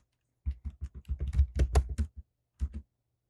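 Quick bursts of typing on a computer keyboard with caps lock on, a close run of about a dozen crisp key taps, then a short pause and two final taps.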